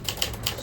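A repaired 5 series typewriter typing, three crisp quick key clacks in close succession, near and loud.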